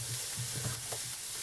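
Onions frying in a pan in a home kitchen, a short stretch of steady soft sizzling with faint stirring scrapes, fairly quiet and without speech.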